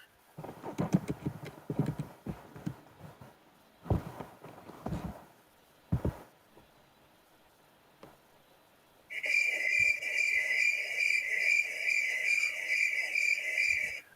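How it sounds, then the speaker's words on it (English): After some clopping, knocking sounds, a loud steady chorus of crickets, played as a sound effect, starts up and chirps continuously in a rapid trilling rhythm. "That's the crickets chirping sound I played already"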